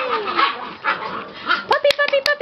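A puppy at a backyard track meet gives a quick run of close, sharp yips and barks near the end, after people talk and call to it.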